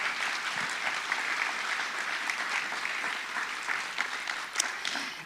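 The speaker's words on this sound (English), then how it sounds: "let's give them a big round of applause" Audience applause at a general session and awards event, a steady wash of many hands clapping from a large crowd, sustained and moderately loud throughout with no voices over it.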